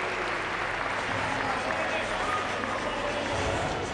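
Steady applause and crowd noise fill the arena at a Greek basketball Super Cup game between AEK and EThA, a continuous dense roar with a commentator talking over it.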